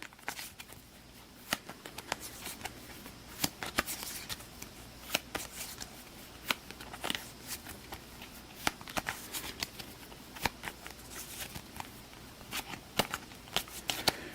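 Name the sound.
shuffling the turn order card deck, Astro Knights Eternity board game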